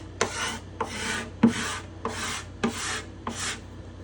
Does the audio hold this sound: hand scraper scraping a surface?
yes